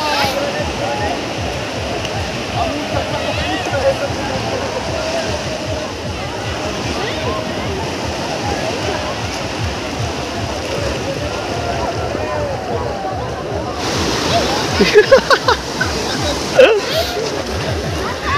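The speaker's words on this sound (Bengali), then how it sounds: "ঢেউগুলো আসছে" Sea waves roll onto Bakkhali beach in a steady, rushing wash of surf that swells into a louder crashing surge near the end, while people talk along the shore.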